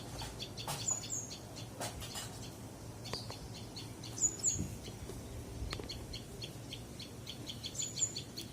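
A tiny tailorbird chick gives faint, thin high chirps, a short call every few seconds, heard from close by over a low, quiet outdoor background.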